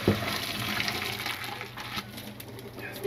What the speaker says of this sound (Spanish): Vamos a desechar el agua, amigos.